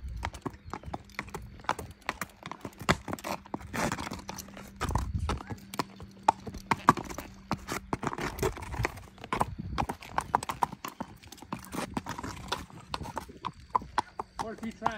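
Quarter horse gelding, fourteen or fifteen years old, with hooves clip-clopping in a steady walking rhythm close by, alongside a brief whinny, while people talk throughout.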